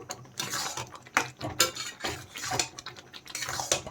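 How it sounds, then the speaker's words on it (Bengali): Semolina being stirred in a pan with potatoes, a close run of uneven metal scraping and tapping strokes from the spoon against the pan, no voices. "দেখেন এইভাবে কিন্তু নেড়ে নেড়ে এটাকে রান্না করে নিতে হবে"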